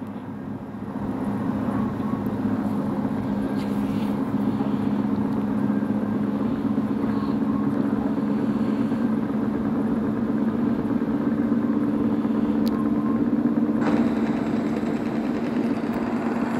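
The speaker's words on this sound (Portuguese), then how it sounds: "Barulhão do V8ão?" Deep V8 truck engine in the video game Truckers of Europe 3 drones steadily and loudly, a continuous rumbling hum with a brief surge near the end, no voices over it.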